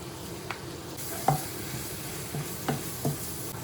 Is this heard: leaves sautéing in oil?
yes